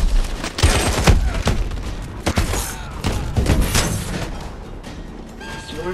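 A swarm missile barrage firing in Call of Duty: Advanced Warfare, a loud series of rapid launch bangs and thumps in uneven succession, dense and close.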